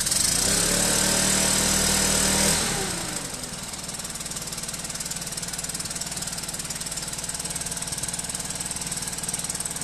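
A Stihl BR 800 backpack blower's engine runs loud and close for a couple of seconds, then drops away to a lower, steady idling drone that carries on to the end, with no talk.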